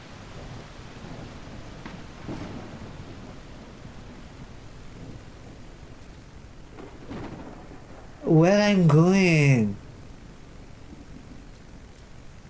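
A thunderstorm with rain in the video game Albatroz gives a steady hiss of rainfall with low rumbles of thunder. Someone speaks briefly in a raised, pitch-swooping voice partway through.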